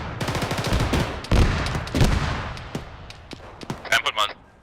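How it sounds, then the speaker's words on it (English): An auto cannon fires in an ArmA 3 military game, bursts of rapid heavy shots with ringing tails, loud then trailing off, while voices talk over the gunfire. "Yeah, there's an auto cannon."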